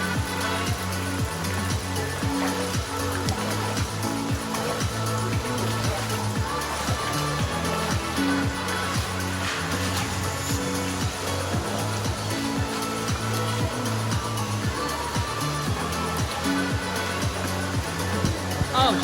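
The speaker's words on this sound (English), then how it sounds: "here's the waterfall if you want that perfect Bali Instagram waterfall picture" Waterfall in Bali, a constant broadband rush of falling water, loud and close, steady for the whole stretch with a faint layer of other sound underneath.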